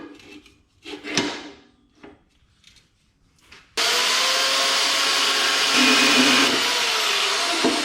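A saw bought online starts suddenly partway through and runs loud and steady while cutting metal for a sign post, following a few scattered handling knocks and scrapes in the quiet before it.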